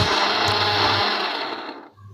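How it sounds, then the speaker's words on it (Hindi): Electric mixer-grinder blending onions, tomatoes and small and large green chilies into a masala paste; a loud, steady whirring motor runs continuously for about two seconds, then winds down briefly near the end. "2 टमाटर और 6 से 7 छोटी हरी मिर्च और 2 से 3 बड़ी हरी मिर्च लेके इसको पीस लेंगे"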